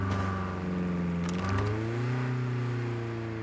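Car engine in a video game revs loudly and close, its steady drone climbing and shifting pitch as it accelerates, with a brief burst of clatter midway and no talk over it.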